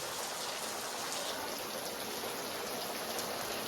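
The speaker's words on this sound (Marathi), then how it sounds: "बघा पाऊस बाहेर चालू आहे" Rain falls steadily outside at six in the evening in a Raigad village, a soft, even patter of drops on surfaces heard from indoors, faint and continuous with no talking.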